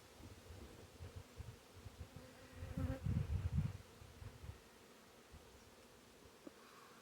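Honey bees hum in a soft, steady drone during a late-July beehive inspection, swelling briefly louder in the middle amid faint rustling of frames.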